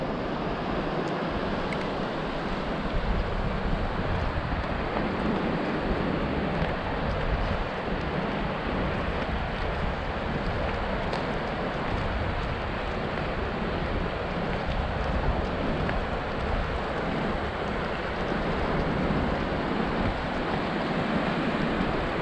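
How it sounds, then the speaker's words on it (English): Ocean waves rolling onto a South Carolina beach, a steady broad wash of surf with wind noise on the microphone, continuous and fairly close, with no voices. "We just love to hear the sounds of that ocean. And look at those waves rolling in."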